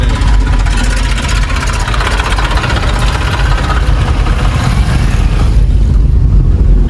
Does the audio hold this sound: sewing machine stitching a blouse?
no